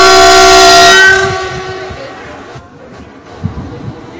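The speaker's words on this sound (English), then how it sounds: "yeah so that train is on test now" A loud train horn blares with a bright, sustained chord in Ghana, then fades into the low rumble of a passing train on a test run.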